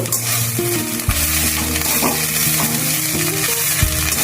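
Thor-bori chechki, a Bengali vegetarian dish of banana stem and lentil dumplings, stirred and fried in a pan: a steady close sizzle with repeated scraping stirs, no talking.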